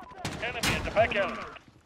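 Gunfire in the video game Call of Duty: Modern Warfare: two sharp bursts of shots fired close by, quickly followed by radio-like voices talking over the fading noise.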